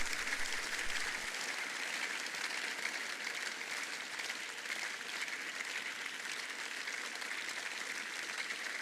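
A church congregation breaks into loud, sustained applause that fills the room evenly from start to finish, with no voice over it.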